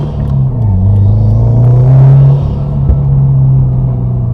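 A Subaru WRX with a solid or Group N transmission mount accelerates gently in second gear, its engine a loud, close, rising rumble that swells and then settles, with no speech.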